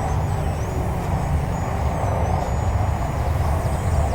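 An E-flite Micro Draco RC jet's electric motor held at full throttle, a steady, loud, unbroken whine and roar with a broad rushing hiss that neither rises nor fades across the clip.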